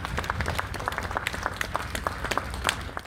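A crowd applauds outdoors in Venice as firefighters hoist a sunken newsstand from the water at Zattere, steady scattered clapping of moderate loudness, somewhat distant, with no talk over it.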